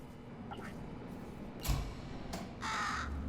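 A bird caws a few times in the video game Portal Stories: Mel, loud harsh calls breaking over a steady low game hum, with short gaps between them.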